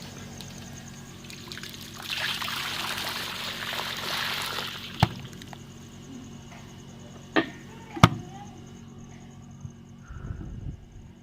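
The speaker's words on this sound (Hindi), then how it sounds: "ये देख सकते हैं गर्म पानी डाल दिया और ओजरी एक बार हमने साफ़ कर दिया अच्छी तरह।" Hot water poured over beef tripe (ojri) while it is cleaned, a rushing splash lasting a couple of seconds, then quiet with a few sharp knocks and handling sounds.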